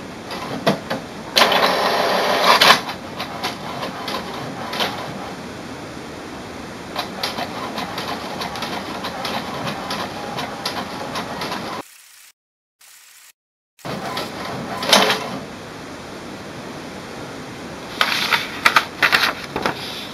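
HP DeskJet Plus 4152 inkjet printer printing pages, with mechanical whirring, clicking and carriage shuttling in bursts, a brief silent gap midway, then more rapid clattering passes near the mic.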